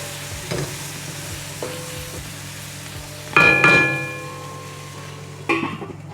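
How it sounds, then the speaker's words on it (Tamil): Yard-long beans stir-fry in a pan, with a steady sizzle under sharp metallic scrapes and clanks of the spatula against the pan at irregular intervals. "நல்லா இதை பிரட்டி விட்டுட்டு ஒரு 3 நிமிஷம் வதங்கட்டும்"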